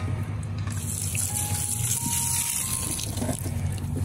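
Water poured gently into a bullfrog aquarium, a steady soft gushing and trickling that runs continuously over low background hum.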